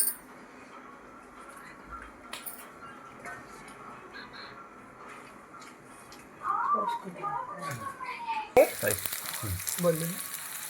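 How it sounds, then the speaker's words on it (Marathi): Stuffed okra sizzles and crackles steadily on a hot griddle, the frying growing louder and busier halfway through, with a voice speaking faintly in the background. "आता मी ती तव्यावर टाकलेली आहे. चुरचुरकण असा आवाज सोडायला सुरुवात केला आहे."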